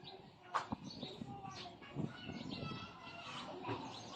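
African lovebirds in a home aviary chirp and call in short, busy bursts as a pair nears egg-laying, with a person talking over the bird sounds throughout.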